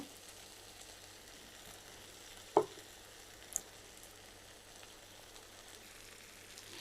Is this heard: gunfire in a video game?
no